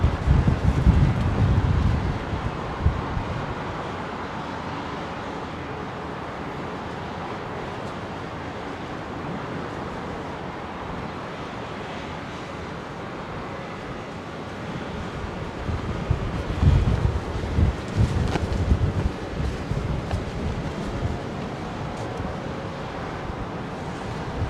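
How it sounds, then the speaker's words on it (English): Strong wind gusts roar across an open microphone beside the runways at London Heathrow Airport, a continuous buffeting rumble that swells loud at the start and again in the last third, with no talk over it. "Blowing a hoolie now"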